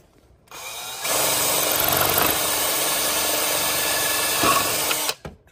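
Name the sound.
power drill drilling mitre fence hole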